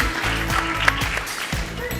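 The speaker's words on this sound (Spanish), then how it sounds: "Un fuerte aplauso para Fernando Campos, CEO en DKV." Applause from a conference audience at an insurance-sector event, a steady wash of clapping filling the hall for a couple of seconds without voices on top.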